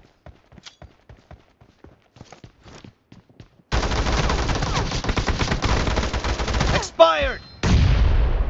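Rapid automatic P90 gunfire in PUBG Mobile team deathmatch, loud sustained bursts after a few seconds of quieter footsteps and clicks, broken briefly by a short pause and another sharp shot.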